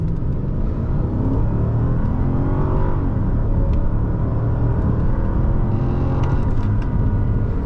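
A 2003 Mercedes-Benz CL500 pulls hard from a standstill, its engine note climbing loud and close through several rising gear sweeps with a steady road rumble beneath and no talking.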